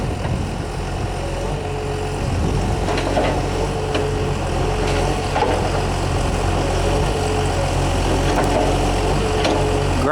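A John Deere 648G III grapple skidder runs with a steady diesel drone and hydraulic whine as its boom is raised and lowered, the engine note holding constant throughout with faint mechanical creaks.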